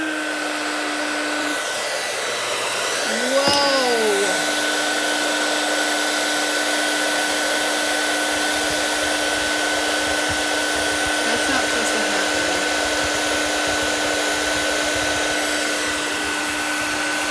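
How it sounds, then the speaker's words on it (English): A hair dryer blows continuously at close range, a loud steady whine with a short pitch sweep near the start as it is switched or moved, then an even roar with no voices. "I need like 2 dryers going right now."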